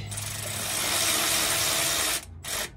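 An electric power tool runs fuel system bolts in on a 1966 Buick Wildcat, a loud, steady whir for about two seconds that cuts off, then a short second burst.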